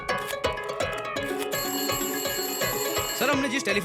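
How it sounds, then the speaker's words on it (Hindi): A telephone rings with an incoming call on a tapped number, its repeated electronic ringtone sounding over a busy film soundtrack of music and effects. "उस नंबर पर दूसरे नंबर से कॉल आ रहा है।"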